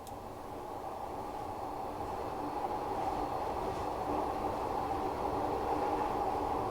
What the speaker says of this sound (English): And again, you can drive this train manually